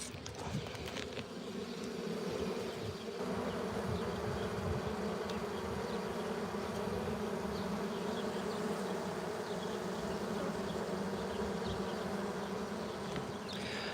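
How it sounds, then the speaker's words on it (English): Honeybees buzz steadily around open hives, a dense continuous drone with a strong low hum held at even loudness throughout, no voices over it. "we are finished checking the hives. Just listen to that for a second."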